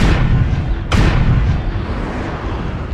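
Incoming fire in MechWarrior Online, a heavy booming impact cracking in sharply about a second in over a dense low rumble of mech noise, loud and close.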